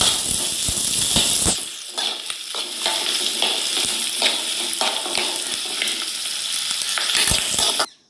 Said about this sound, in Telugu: ఆయిల్ తీసుకొని ఆయిల్లో ఆనియన్ ఉల్లిపాయలు వంకాయలు వేసిన తర్వాత ఇలా కలిపెట్టాలండి